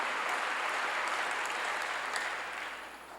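A church congregation claps together during a Korean sermon, a dense, sustained wash of applause that fades slightly toward the end.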